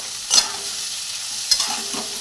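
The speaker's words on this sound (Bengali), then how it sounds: "যখনই পেঁয়াজটা ভাজবেন নুন দিয়ে ভাজবেন, তাহলে পেঁয়াজটা তাড়াতাড়ি হয়েও যাবে" Onions frying with salt in a pan give a steady, soft sizzle, broken by two brief louder bursts of stirring or scraping; close and alone, with no voices.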